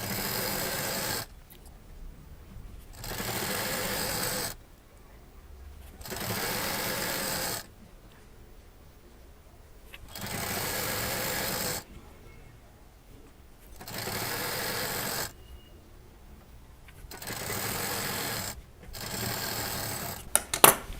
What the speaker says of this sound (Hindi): इसके जो दूसरा साइड है उस पर भी पूरी मशीन चला देंगे, तो ये पूरी बेल्ट हमारी तैयार हो जाएगी